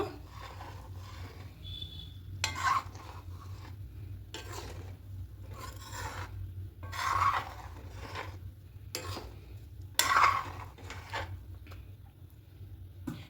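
Soft scraping strokes of a spoon gently stirring a semolina mixture with jaggery for milk puli pitha, a handful of brief rubs spaced a few seconds apart over a low steady hum.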